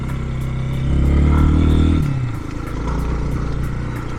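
Lifan KPX 250 motorcycle engine running at medium revs on a cool day, a steady close mechanical drone that swells briefly and settles into an even idle-like rumble, with no talking.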